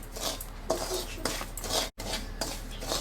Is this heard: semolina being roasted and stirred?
yes